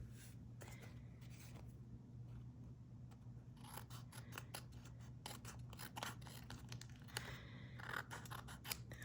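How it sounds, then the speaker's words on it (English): Scissors snip and trim the edges of a card base for a handmade Thanksgiving card, a run of close, crisp cuts with small rasping slides of the blades over a steady low hum. "So I'll just gently trim those off with my scissor."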